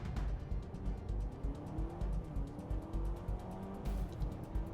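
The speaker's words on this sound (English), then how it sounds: "You could hear the tires actually try to get traction." A 2025 Honda Civic Hybrid launches from a stop in sport mode, its engine whine rising and shifting while a rapid rhythmic chatter of tires scrabbling for traction runs underneath, close and moderately loud from inside the car.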